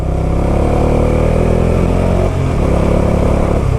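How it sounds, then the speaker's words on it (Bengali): A motorcycle engine runs while being ridden in low gear, a loud, close, continuous droning rumble that holds steady with a slight dip in pitch partway through. "আমি আমার স্বপ্নের বাইক নিয়ে ঘুরছি।"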